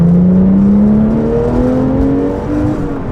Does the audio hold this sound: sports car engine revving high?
yes